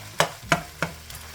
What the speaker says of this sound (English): let's get to frying up the Italian sausage